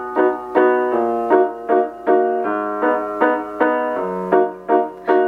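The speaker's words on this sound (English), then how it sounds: "I just wanted to break down that nice little piano riff." A piano riff, with a descending bass line under short staccato chords struck in a steady bouncing rhythm, loud, close and alone.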